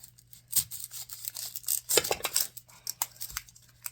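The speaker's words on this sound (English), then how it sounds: "we're going to chop up the onion" An onion being chopped for cheesy lasagna, with knife strikes on a cutting board repeating close and fairly loud, plus light clinks of utensils and dishes between the cuts.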